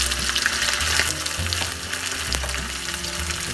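Green onion bulbs dropped into hot oil with nigella seeds, a loud, close, continuous sizzle and crackle with a few stirring scrapes, no voices.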